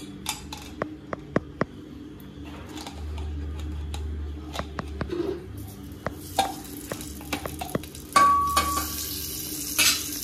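Ghee heating in a pan with washed rice gives a low, steady sizzle under scattered sharp clicks and taps of utensils against the pan, close and fairly quiet.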